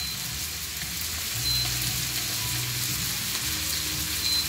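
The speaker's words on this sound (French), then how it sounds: "on remue, comme je disais tout à l'heure, un petit peu le salsifis dans le blanc" Salsify stirred and fried in a pan with cooking fat, a steady close sizzle broken by scraping stir sounds, with no talking.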